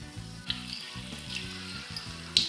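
Spring rolls frying in hot oil, a soft steady crackling sizzle with faint bubbling and a couple of small pops, quiet and close with no voices.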